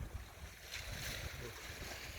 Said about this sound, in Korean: 이게 파도 소리 아주 좋습니다